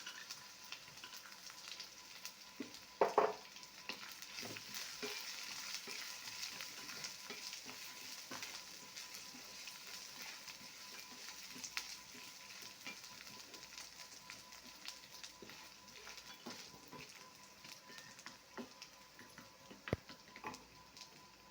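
Grated coconut and peanuts roast in a pan, making a faint, dry crackle with light scattered ticks and scrapes of stirring throughout.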